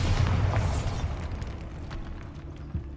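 The Bombarda spell explodes in Hogwarts Legacy inside a tomb by an altar, a loud deep boom that rumbles and decays over a few seconds, followed by a faint thud.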